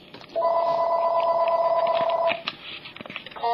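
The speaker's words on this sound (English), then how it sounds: "That's my house phone." A home landline telephone gives one long, loud electronic ring of nearly two seconds close by, followed by softer clatter and the start of another ring.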